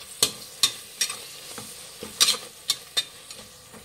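A spoon scrapes and clinks against a pot in irregular close strokes while thick curd and spices are mixed for Hyderabad veg kuska rice, with faint background noise between the strokes.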